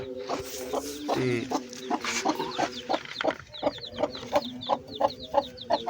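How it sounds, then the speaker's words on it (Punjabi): Rooster and hens of the Aseel breed cluck steadily in a farmyard, with repeated close, clipped calls in an uneven rhythm and a few sharper squawks mixed in. "ਇੱਧਰ ਮਿੱਤਰ ਮੁਰਗਾ ਵੀ ਆਪਾਂ ਖੁੱਲੇ ਰੱਖਿਆ ਮੁਰਗੀ ਦਾ ਚੱਲਦਾ ਹੋ ਲਿਆ"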